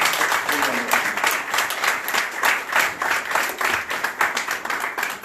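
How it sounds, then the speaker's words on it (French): Sustained, dense applause from a press-conference audience in Paris honoring Koffi Olomide, many hands clapping steadily and fairly close for several seconds, with faint voices mixed in. "j'aimerais qu'on applaudisse très très fort Monsieur Kofi Olomide"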